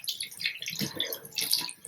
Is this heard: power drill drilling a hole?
no